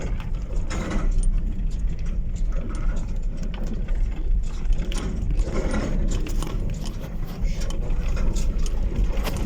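A car's brakes grind on a rough road after the brake pads have fallen off. The grating, clattering metallic rasp is loud, close and continuous throughout.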